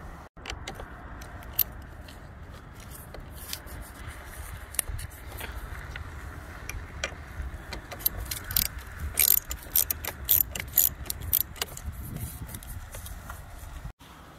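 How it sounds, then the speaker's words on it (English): A ratchet loosening the 10mm nuts on a car battery's positive and negative terminals gives off steady, fine clicking with sharper metallic ticks and a few clanks, close and moderately loud, without talk. "you want to unscrew these two 10mm nuts"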